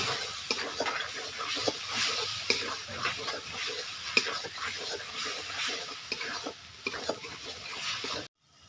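Spices being fried in oil and stirred in a pan for a masala mushroom and potato curry, with a steady close sizzle and repeated scraping strokes of the spoon. The sound runs continuously, then stops abruptly near the end.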